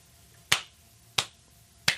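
Three sharp, evenly spaced hand claps of the Florida Gators chomp gesture, close and crisp against a quiet room, each snapping out and fading quickly.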